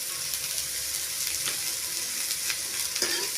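Mixed vegetables for fried rice sizzle in a hot pan with a steady frying hiss and occasional sharp scrapes as they are stirred and tossed, with no talking.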